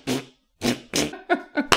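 A person imitates fart sounds with the mouth, several short blurting bursts in a row separated by brief pauses, close and fairly loud.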